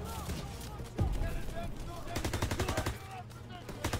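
Rapid automatic gunfire crackles in bursts in a Call of Duty WW2 match, with sharp single shots and a quick rattling volley, mixed with voices talking over the game.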